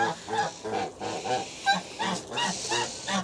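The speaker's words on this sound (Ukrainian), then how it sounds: "Боже, які ці гуси болотні." Several geese honk repeatedly at close range, their calls overlapping in a noisy, continuous chorus.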